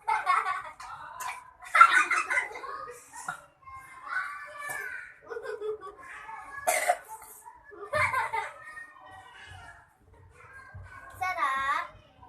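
Children speak and play in a lively home setting, with a few short coughs breaking through between the chatter.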